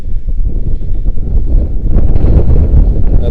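Strong wind buffets the microphone outdoors while spinning for pike, a loud, steady low rumble that swells louder over the last second and a half, with no voices.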